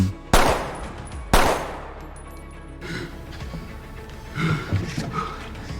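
Two sharp, loud gunshots from the action film Sniper ring out about a second apart, each trailing off into a lingering rumble, followed by quieter scuffling movement sounds.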